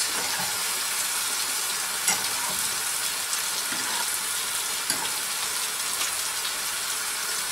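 Pieces of beef sizzle and crackle steadily in a hot pan for beef stroganoff, a close, continuous frying hiss with occasional small pops.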